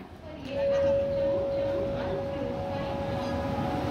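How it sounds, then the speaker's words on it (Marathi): The Indrayani Express passenger train rumbles in with a long, steady horn tone sounding for over a second, while people chatter nearby. "गाडी आली आपली बघा इंद्रायणी"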